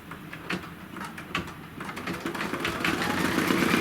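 A sewing machine stitching a placement line on fabric for a project, a close mechanical whirring that builds steadily louder toward the end, with a few light taps early on.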